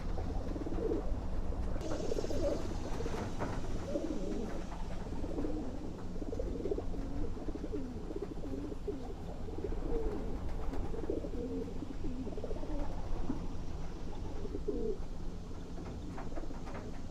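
Pigeons cooing steadily in an outdoor loft full of birds, low soft coos repeating throughout over a constant background hum, no talking.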